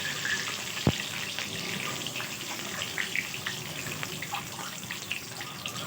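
Eggs fry quietly in a pan, five eggs cooking together with a soft, low crackle. One sharp knock sounds near the start, and a few faint clicks and bumps follow over the steady background hiss.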